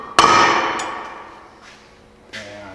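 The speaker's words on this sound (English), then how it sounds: "You don't want to pound on that bolt if you only got one or two threads in it." A hammer strikes a bolt while changing spindle bearings on a Hustler mower, one loud ringing metallic clang that slowly decays, followed by a lighter tap and a second softer clink.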